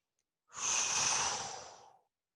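A single deep breath during a yoga class, a soft airy exhale that swells quickly, holds, then tapers away into silence, close and alone.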